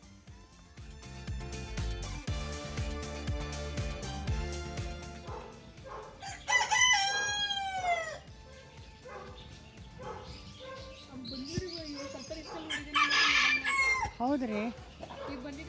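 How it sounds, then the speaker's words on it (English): Crested Polish chicken, an ornamental breed, crowing in two loud drawn-out calls amid clucking and other barnyard noise, with a dog barking and a person briefly speaking nearby. "The crested Polish chicken is a popular and ornamental breed known for its distinctive and dramatic feather crest."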